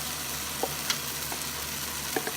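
Tofu and green beans fry in a tomato sauce with a steady close sizzle, broken now and then by faint pops and stirring clinks and no voices.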